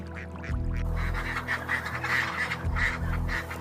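Ducks quack on a Chinese egg duck farm, a busy chorus of overlapping, honking calls close by and fairly loud, with no speech.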